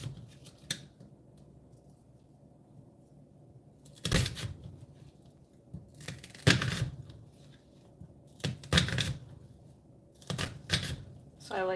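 A knife dices food on a cutting board while preparing ingredients for a sauce, giving clusters of sharp, quick chopping taps separated by quieter stretches, with a person talking in between.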